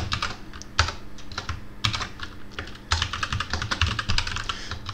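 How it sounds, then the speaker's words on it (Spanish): Fingers type on an English computer keyboard in quick, close, clattering bursts of keystrokes with brief irregular pauses and occasional heavier key hits, with no talking. "Cometo muchos errores de tecleo porque este teclado inglés que tengo ahora entre manos no me facilita la tarea."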